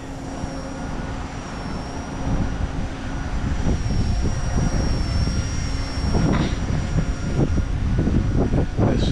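An XK K110s collective pitch micro RC helicopter hovers outdoors on a breezy day, a steady high motor whine with wind buffeting the microphone throughout, held at a fairly constant level.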